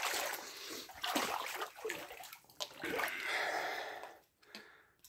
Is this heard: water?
yes